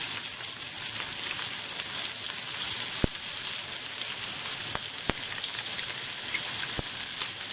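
Mussels fry in a pan with pimenton, giving a loud, steady sizzle and crackle that fills the whole stretch, with a few sharp knocks as the pan is handled.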